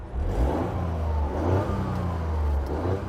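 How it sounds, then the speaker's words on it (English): A Toyota GR Yaris engine revving and accelerating, its low exhaust drone rising and falling steadily throughout with no voices. "The first is the exhaust note. It's rubbish, utterly rubbish."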